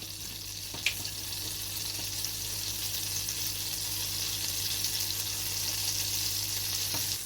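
Butter and oil sizzle in a hot pan over medium-high heat, a steady, even hiss with one or two faint clicks, close and uninterrupted.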